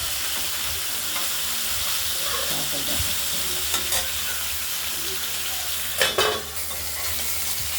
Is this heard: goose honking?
no